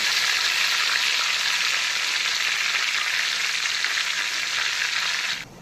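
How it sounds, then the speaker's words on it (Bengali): Whole garam masala, bay leaf, cumin and a dry chilli frying in mustard oil and ghee in a kadai give a loud, dense, rain-like sizzle that holds steady for over five seconds and then cuts off abruptly. "সবার প্রথমে এই ফোড়নগুলোকে ভাজা ভাজা করে নেব।"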